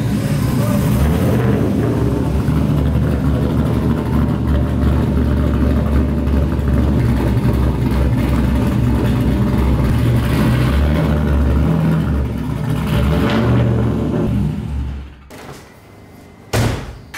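Engine of an LS V8-swapped 1997 Mazda Miata running loud and close for about fifteen seconds, a heavy low drone that cuts off near the end, followed by a door-like thud.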